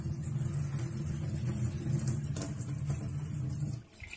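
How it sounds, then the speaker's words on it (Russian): Tap water pours steadily and strongly from a kitchen tap fitted with a filter into a sink, a close, continuous rush that stops abruptly near the end. "Вода течет, напор отличный."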